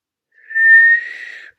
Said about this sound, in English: One last whistle attempt.